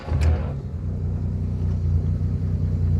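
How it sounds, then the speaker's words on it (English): A 1952 Jaguar XK120 engine catches with a brief starter burst, then settles into a steady, deep idle rumble, close and even. "Fire up the engine."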